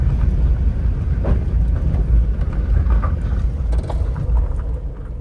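Interior road noise from a van on the move in Japan, a deep continuous rumble and drone with light rattles and wind, steady throughout and without speech.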